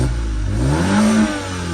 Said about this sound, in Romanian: Așa se aude motorul.